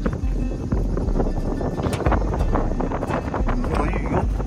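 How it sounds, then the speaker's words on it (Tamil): Strong wind buffets the microphone on an exposed mountain fortress at Sigiriya, Sri Lanka, a loud continuous roar with gusting thumps throughout and no talk. "சரியான காத்தடிக்குது."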